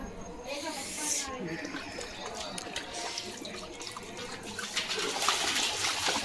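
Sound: water splashing as a dog plays in it

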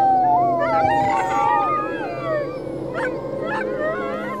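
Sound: many dogs howling together like a choir

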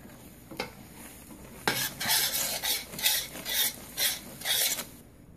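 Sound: stirring melted marshmallow mixture with almonds

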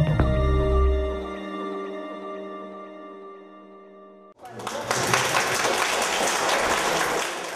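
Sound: applause from teachers and students at class opening

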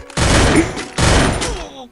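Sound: gunfire in Free Fire Clash Squad video game

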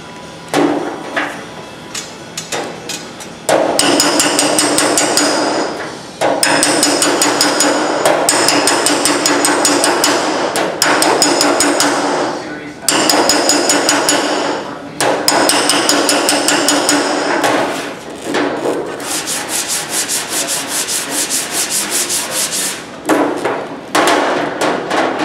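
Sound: metal being worked with a slapping spoon and hammer

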